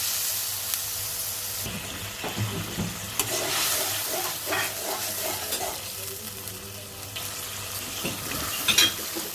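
Spiced egg curry being stirred in a hot pan, with a steady sizzle of frying masala and repeated scraping, clinking strokes of a spoon against the metal, close and continuous.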